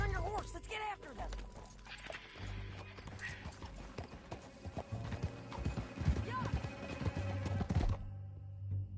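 Horse hooves clip-clop steadily through the open-world Western game Red Dead Redemption 2, with a whinny near the start, game music and ambience, and voices talking over the ride.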